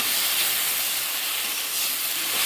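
Okra and chopped onion with turmeric frying in a pan, giving a steady, loud, even hiss of sizzling oil that continues without a break.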